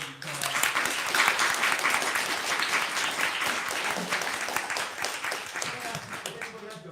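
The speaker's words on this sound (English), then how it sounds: "a big round of applause for Paul" An audience claps steadily for Paul at the end of his talk, a full round of applause that swells early then slowly thins out, with a few faint voices mixed in.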